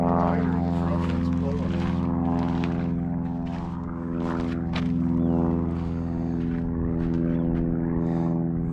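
Propeller airplanes cruise overhead above an Arizona auto salvage yard, a steady droning hum with a clear engine tone that persists while people talk nearby.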